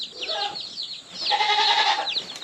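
Farm goats bleat repeatedly at close range, a string of wavering calls rising in a louder burst midway, with faint background bird or chicken sounds.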